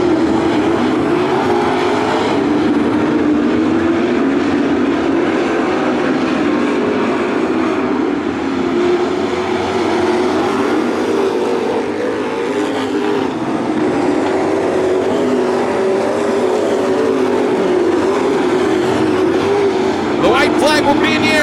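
Dirt trucks racing in an A-Main at Attica Raceway Park, a steady loud engine roar sustained throughout, with a commentator talking over it.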